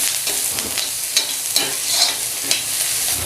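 Crushed garlic and onions frying in a pan, a steady close sizzle with repeated scraping stirs over several seconds, no talking.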